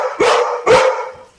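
A dog named Swan gives two loud, close barks in quick succession, each sharp onset trailing off briefly, with no talking around them.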